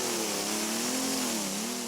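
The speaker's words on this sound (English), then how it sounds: "The Alice Chalmers bouncing up and down the center of the course." A historic Allis-Chalmers tractor at a dirt tractor pull, its engine holding a steady, loud, strained drone with a slight wavering pitch, heard from a distance across the course.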